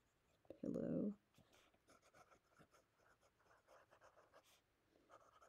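A Sailor Pro Gear Slim fountain pen with Wearingeul Atlas ink scratches softly across paper in short irregular strokes, close and faint, after a brief loud voice-like burst near the start.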